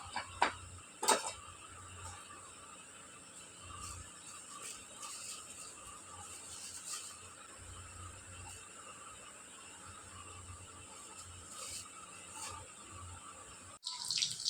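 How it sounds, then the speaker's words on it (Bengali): Tap water runs steadily into a sink as cut potatoes are washed, a soft continuous splash with occasional faint knocks of dishes, quiet and unbroken. "এইগুলোকে ধুয়ে নিয়ে আসি কল থেকে,"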